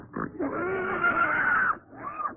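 A pig grunts and oinks up close, a short grunt followed by a long drawn squealing oink and a final brief snort, loud and clear with no talk.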